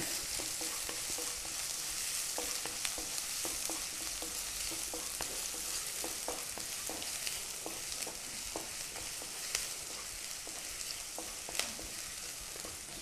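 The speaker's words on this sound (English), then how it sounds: "When the oil is hot, we add the onions. Saute the onion to dark pink in color." Onions sautéing in two tablespoons of hot oil for Kabuli rice, a steady close sizzle with frequent scraping and stirring clicks throughout, no talking.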